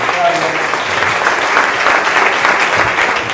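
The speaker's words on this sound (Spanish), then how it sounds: "Un aplauso para Ricardo." An audience claps steadily in dense, sustained applause, filling the room from start to finish.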